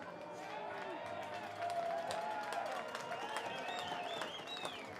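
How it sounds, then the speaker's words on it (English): Baseball crowd at a Portland Pickles game cheers and claps as a coach returns to the dugout, a moderate wash of distant cheering and scattered applause with whistles and voices mixed in. "Crowd cheering on Coach Mags as he returns to the Pickles dugout"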